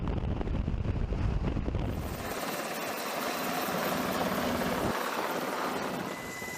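A military helicopter's rotors whir loudly and continuously nearby during a parachute jump, a dense roaring wash of noise with wind buffeting the microphone.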